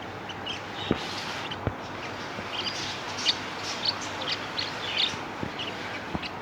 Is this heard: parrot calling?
yes